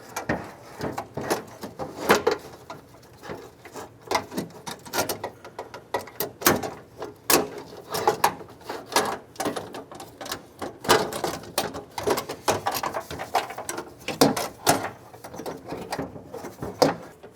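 A window regulator for a 2002-07 Jeep Liberty is worked up into the door cavity, a close run of irregular metallic clunks, scrapes and rattles against the door panel with no talking.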